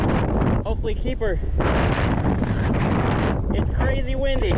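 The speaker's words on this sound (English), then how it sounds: "It's crazy windy." Strong wind buffets the microphone in loud, rumbling gusts throughout while fishing on the California Delta, with brief voices breaking through in between.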